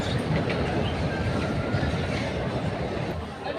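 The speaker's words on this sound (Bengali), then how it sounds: "দেখছেন সাইডটা ট্রেন চলে যাচ্ছে" A train rumbles past on a nearby railway line, a loud continuous roar of wheels and carriages with a faint clatter, steady throughout and fading slightly at the end, with faint voices in the background.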